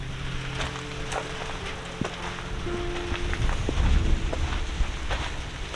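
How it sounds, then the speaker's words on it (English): Steady rain falling on the steel bodies of old cars and trucks in an outdoor classic car salvage yard, with a dense patter, scattered sharper drop ticks and a low rumble underneath. "I don't know if you guys can hear the rain hitting the steel,"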